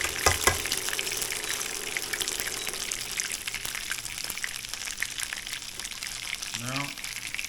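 Shrimp tempura in batter frying in hot oil, a steady close sizzle and bubbling hiss throughout, with a short rising tone near the end.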